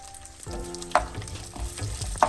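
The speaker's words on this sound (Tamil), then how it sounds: "கஜுவும் அல்மண்டும் சின்ன சின்னனாக வெட்டி வச்சிருக்கிறேன் அதை ஒருக்கா பொறிச்சு எடுப்பேன்" Small chopped cashews and almonds fry in ghee for carrot halwa, a soft bubbling sizzle with a few sharp clinks from a spoon on the pan.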